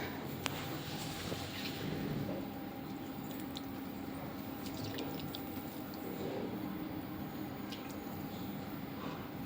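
Small amounts of water are sprinkled by hand over soil prepared for the Ghatasthapana ritual, making soft, steady wet patters and faint drips close by with no talking.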